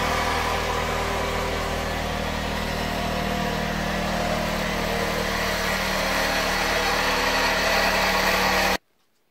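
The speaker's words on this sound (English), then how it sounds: "that noise you're hearing outside is my husband blowing snow." A snow blower runs outside after a heavy snowfall, a steady mid-pitched engine drone heard at a distance through the walls, continuous and fairly even throughout before stopping abruptly.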